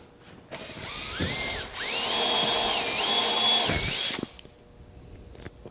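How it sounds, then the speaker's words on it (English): An electric drill with a 3/16 bit whirs up to speed and bores steadily down through wood for about four seconds, its pitch dipping and rising under load, then stops. "I'm going to make just drill straight down"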